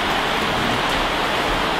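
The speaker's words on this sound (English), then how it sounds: "We've got a lot of rain noise" Steady broadband rain hiss fills the whole stretch at a constant level, with no voices, heard during an outdoor tea talk.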